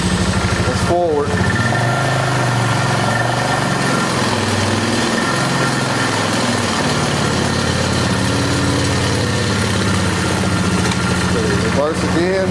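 A Polaris 325 Magnum four-wheeler, trashed and on its first start, idles loudly and steadily up close with a buzzy, vibrating engine drone that wavers slightly in pitch, while a person talks over it.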